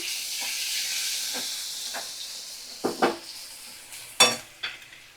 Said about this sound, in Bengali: তো দেখো ভালো করে আমি মিশিয়ে নেব, নাড়াচাড়া করে নেব।